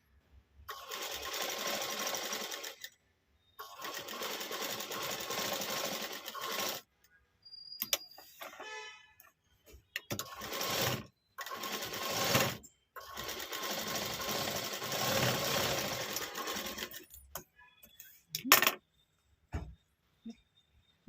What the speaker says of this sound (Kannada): ಆರಾಮಾಗಿ ಸ್ಟಿಚ್ ಮಾಡ್ಬೋದು.